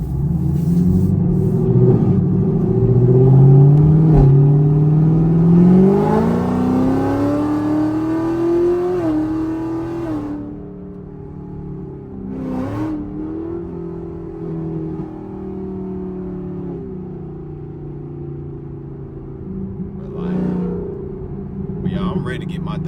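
A Chevrolet Camaro ZL1 with a loud American V8 roars through hard pulls, its pitch climbing steeply, then settling into a lower drone with brief blips, heard from inside the car with voices talking over it.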